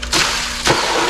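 Water poured out into the corner of a small betta pond, two short splashing bursts with a steady wet wash between them, close by.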